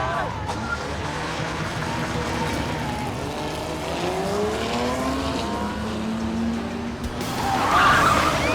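Video game car engines roar continuously with squealing tires and skids, building to a louder screech near the end.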